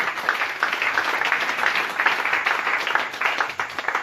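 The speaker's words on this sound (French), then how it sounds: "Applaudissez pour le Seigneur." A church congregation applauding, with brisk, dense clapping close by that pulses unevenly for about four seconds.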